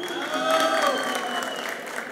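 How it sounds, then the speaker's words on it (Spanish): An audience applauds a contestant during a Campus Party vote, a brief burst of clapping mixed with crowd noise and faint voices. "Aplausos por nuestro campusero número 1."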